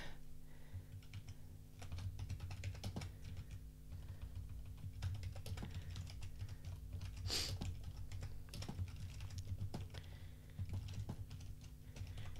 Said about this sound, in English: exciting typing noises